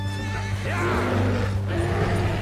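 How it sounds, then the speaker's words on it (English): A spooked horse whinnies loudly in Red Dead Redemption II, a shrill neigh over a constant low engine-like hum and some hoof clatter, with a brief second cry near the end. "You must start running because your horse is about to get spooked."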